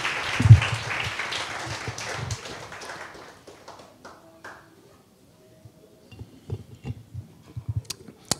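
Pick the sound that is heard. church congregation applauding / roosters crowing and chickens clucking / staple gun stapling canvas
church congregation applauding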